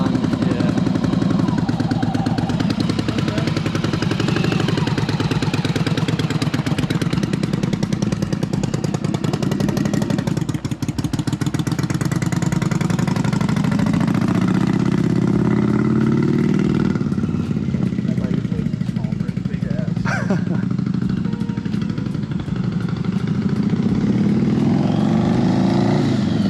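A project motorcycle engine runs with the choke fully on, idling and revving with a rough, clattering note throughout. People talk over it, close to the bike.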